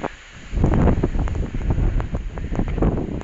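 Strong wind roars across the microphone in loud, rumbling gusts on a grassy hillside plantation site, swelling after a quieter start and buffeting throughout.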